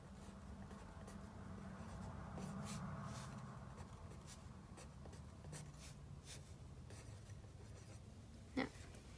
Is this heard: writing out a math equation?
yes